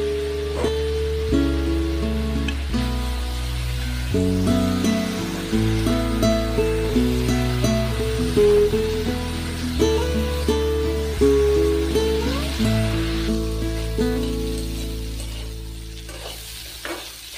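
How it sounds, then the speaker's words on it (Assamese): Thinly cut potatoes with salt and turmeric fry in oil with a soft, continuous sizzle. Loud background music with a steady beat mostly covers it. "এইখিনি আলুখিনি মই ভালদৰে ভাজি ল'ম।"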